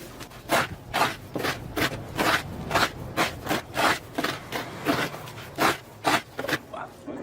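Sand, broken glass and cement are mixed together by hand, making a steady rhythm of gritty, close scraping strokes at a moderate level.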